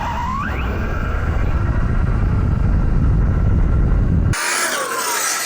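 A small motor whines steadily for several seconds with the roar of 1/8-scale RC monster truck tires on pavement, then cuts off abruptly, leaving a thinner hiss.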